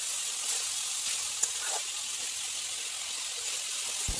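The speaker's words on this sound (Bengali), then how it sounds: "দেখো এখন আমি নারিকেলটা ভাজছি" Grated coconut frying in a pan with coconut milk, giving a steady, close hiss and sizzle throughout, with a faint clink or stir partway in and no voices.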